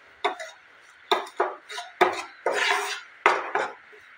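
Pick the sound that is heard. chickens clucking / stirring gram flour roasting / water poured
stirring gram flour roasting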